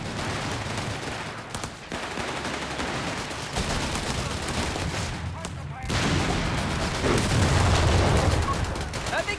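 A StuG assault gun fires in a Company of Heroes 3 battle. Bursts of gunfire and heavy shots crackle continuously amid a busy mix of combat noise, with a voice talking over it.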